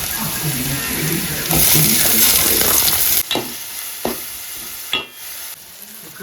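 Tomatoes dropped into onions frying in oil for a rustic crab curry, a loud burst of sizzling and stirring that swells for a couple of seconds and then settles into quieter frying with a few sharp clinks.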